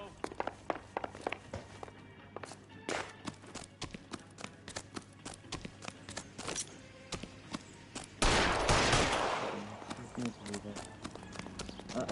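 Gunfire rings out in the video game L.A. Noire, with sharp shots scattered among clopping hooves and footsteps, swelling into a dense, loud burst partway through while voices talk over the action.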